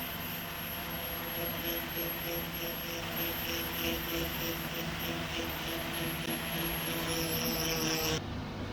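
A polishing mop buffs the chrome on a 65-year-old vintage motorcycle fuel tank near a repair section, giving a steady, close whirring drone with a high whine that runs throughout and cuts off just before the end.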